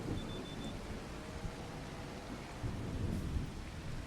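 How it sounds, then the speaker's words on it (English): Rain and thunder in Farming Simulator 25: a dense, steady rainfall hiss with low rolling thunder rumbling underneath, continuous and fairly soft throughout, with no voices. "We are expecting rain again in the middle of the night, but this rain is supposed to last a while."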